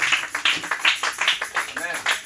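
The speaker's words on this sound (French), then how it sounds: "On acclame le révérend." A church congregation applauding the reverend, a few seconds of steady clapping and cheering mixed with voices, fairly close and lively.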